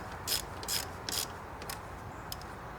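A torque wrench ratchets in short, crisp bursts while snugging the throttle plate bolts on a 2007 Subaru Tribeca, with several clicking runs close up and no talking.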